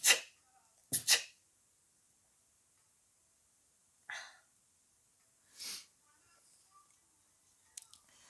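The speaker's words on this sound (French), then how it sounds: "Je pense que je vais éternuer" A woman sneezes at the start, a sharp close burst followed by a second right after near the one-second mark, then a few softer breathy bursts and sniffs scattered through otherwise quiet room tone.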